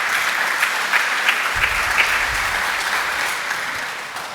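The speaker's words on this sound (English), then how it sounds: "I think you should deserve an applause." Steady applause from an audience at a photography festival, a continuous wash of clapping hands with a few sharper claps standing out, fading slightly at the end.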